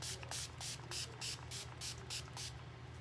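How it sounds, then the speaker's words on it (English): Urban Decay De-Slick setting spray misted onto a face in about nine quick, evenly spaced hissing bursts, close and soft, with no talking. "my Urban Decay De-Slick Setting Spray. I'm gonna spray the snot out of my face right now"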